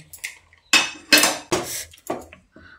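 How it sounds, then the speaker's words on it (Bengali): The lid of a pressure cooker, already cooled after boiling potatoes, is worked loose with several sharp, close metallic clanks and clinks spaced irregularly over a few seconds, with no voices. "প্রেসার কুকারটা আপনার হতে ঠান্ডা হওয়ার পর আমি ঢাকাটা খুলে নিচ্ছি।"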